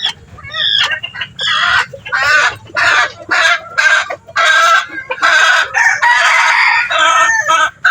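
Texas and bantam hens squabble over a nesting spot, giving loud, close clucks and agitated squawks in rapid bursts with short gaps between them and a crowing-like call among them.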